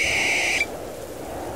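A single eerie owl-like bird call at night, used as a horror story effect, gives one clear hoot of about half a second that cuts off into quiet background hiss.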